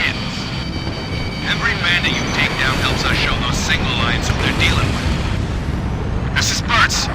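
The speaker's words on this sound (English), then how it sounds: "We got a sky full of hostile aircraft above us" Fighter jets roar overhead in the video game Ace Combat Infinity, a sustained, loud rushing engine drone with occasional booms and gunfire, under radio chatter and voices.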